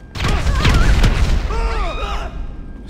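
Vehicle blown up in GTA 5, a loud booming blast followed by rumbling debris and crackle, with game sounds sweeping over the tail.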